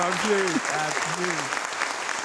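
A studio audience at a French television show applauds in a steady wash. Raised voices and whoops ring over the clapping through the short burst.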